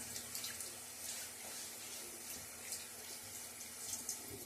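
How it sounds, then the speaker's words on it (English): Water runs steadily from a tap into a sink during a wet shave with a Timeless 68 open-comb razor and Gillette Nacet blade. The flow is faint and continuous, with light splashing and small clinks. "A little bit of water."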